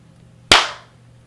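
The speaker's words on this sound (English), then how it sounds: "That was a really nice clap. It was close to the microphone." A single sharp hand clap recorded as Foley close to a microphone, one crisp loud snap with a short decaying tail over a quiet room hum.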